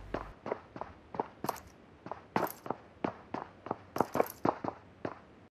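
Footsteps on the second floor heard from the level below in PUBG Mobile, a steady run of about a dozen clear, evenly paced thuds with sharper scuffs mixed in, moderately loud and with no talking.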